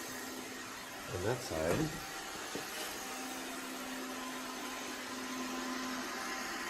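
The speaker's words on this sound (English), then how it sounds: "Roomba does a good job of going under the sofa." An iRobot Roomba 690 robot vacuum runs with a steady motor whine and hum across hardwood floors near a sofa, continuous and moderately close, while a person speaks briefly over it early on.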